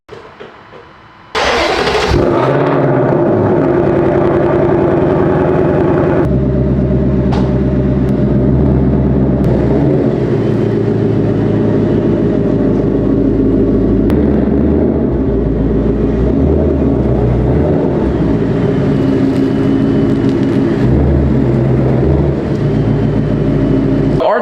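A Ford S650 Mustang fitted with an upgraded exhaust cold-starts with a sudden loud crank and roar, then settles into a steady, throaty idle that fluctuates slightly and continues close and loud throughout.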